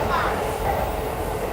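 A train rolls past in Akihabara, Tokyo, a steady rumbling wash of rail noise heard close and continuous, with faint voices underneath.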